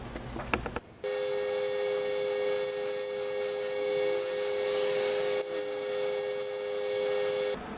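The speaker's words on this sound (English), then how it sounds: "Then I took Bugs and Daffy outside to the pneumatic sander." A pneumatic sander works on wooden intarsia figures of Bugs Bunny and Daffy Duck outdoors, giving a sustained high whine with an abrasive rasp that runs continuously for several seconds after a brief clatter at the start.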